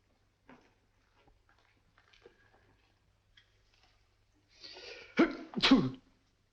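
A single loud sneeze near the end, preceded by a sharp intake of breath, following a few faint scattered rustles in a quiet room.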